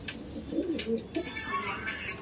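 Pigeons of the Andhra Madras type coo softly and close by in a dovecote, with low throaty calls and rustling through faint background noise.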